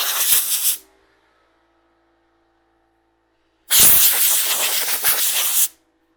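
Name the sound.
air compressor blowing dust off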